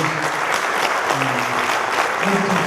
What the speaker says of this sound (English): Give Sam a round of applause, please.